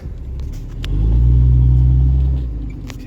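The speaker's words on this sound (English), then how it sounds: "Come on, get me off the hill. Oh, I'm digging." A vehicle stuck on a hill strains as its wheels dig and spin; a deep engine rumble swells to a loud, steady surge for about a second and a half, then eases off, with no talk.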